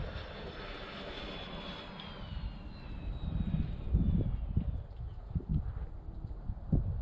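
Freewing F-14 twin 80mm EDF radio-controlled jet with a 5280RC afterburner flying overhead, a steady high ducted-fan whine that sweeps downward as it passes, with louder low rumbling bursts and wind buffeting toward the end.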